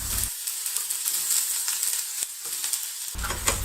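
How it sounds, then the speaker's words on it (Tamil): Sliced ridge gourd with its skin on crackles and sizzles steadily in a little hot oil in a pan. The frying briefly drops away once and then returns, with no voices. "இந்த பேனில் இன்னொரு 1/2 டீஸ்பூன் அளவுக்கு எண்ணெய் சேர்த்துட்டு நம்ம நறுக்கி வச்சுருக்க பீர்க்கங்காயை சேர்த்து"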